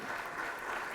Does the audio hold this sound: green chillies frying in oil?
no